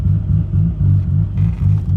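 A low 2JZ car engine with a McLeod clutch rumbles in rhythmic pulses, loud and close, revving gently as the vehicle pulls away from a standstill.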